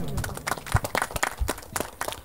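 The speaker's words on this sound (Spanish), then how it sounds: "Fuerte palmas para el señor alcalde." Applause and clapping from a crowd welcoming a mayor, a dense patter of claps filling the moment, with some voices mixed in underneath.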